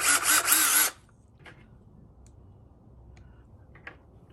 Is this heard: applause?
no